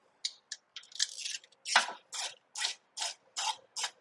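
A ratchet snugs spark plugs on a 2008 Chevrolet Impala, giving close, crisp bursts of clicking in a steady series of short strokes separated by brief gaps.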